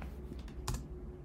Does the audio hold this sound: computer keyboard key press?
yes